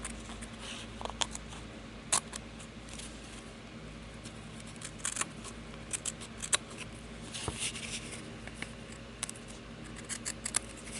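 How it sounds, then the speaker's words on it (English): Small detail scissors snip the edges off a fabric Christmas tag in a quiet room, making a series of sharp, crisp clicks and cuts spaced irregularly over a faint background. "you can also come in with your little detail scissors to cut some of these edges off"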